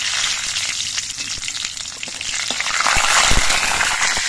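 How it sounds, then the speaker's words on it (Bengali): Mustard seeds and slit green chillies fry in hot mustard oil, a steady sizzle with sharp crackles and pops that grow busier toward the end. "সর্ষের তেলটা গরম হয়ে যাওয়ার পর এর মধ্যে আমি অল্প করে সর্ষে ফোড়ন দিচ্ছি"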